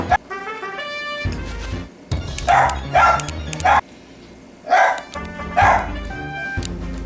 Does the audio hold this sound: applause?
no